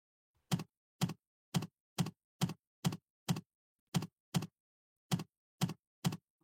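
Keys tapped one at a time on a computer keyboard while practising Korean key positions, about a dozen crisp, close, isolated clicks in a steady, unhurried rhythm against silence.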